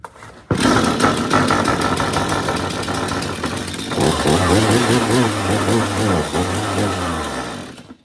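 A new-style Stihl chainsaw with a freshly replaced starter rope runs loud and steady close by, its two-stroke engine droning throughout with a brief dip before settling into a rougher, throbbing idle.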